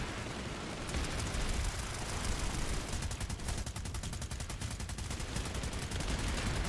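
Rapid automatic gunfire from a PlanetSide 2 firefight on PS4, a dense, sustained stream of shots that holds steady at moderate loudness throughout, with no talking over it.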